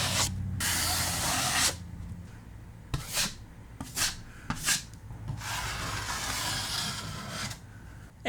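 A drywall knife pulls joint compound tight over a rounded corner bead in steady scraping strokes, several long rasping passes broken by short sharp swipes, close and fairly quiet with no talking.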